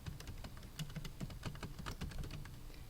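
Quick, irregular clacking of fingers on a computer keyboard, close and fairly quiet, as a teacher types while setting up a Google Form, with no voices.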